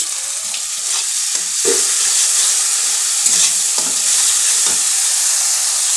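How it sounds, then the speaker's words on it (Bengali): Tomato puree sizzling and frying in a pan as it is stirred, a steady broadband hiss with several soft scraping strokes of the spoon, close and continuous with no talk. "এই যে টমেটো বাটা, দিয়ে ভালো করে কষাচ্ছি"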